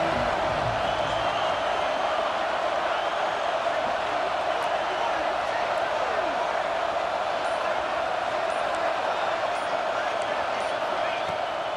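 Crowd roar in an EA Sports College Football video game at an Auburn stadium on third down, a steady dense wash of cheering fans throughout, with a commentator's voice over it.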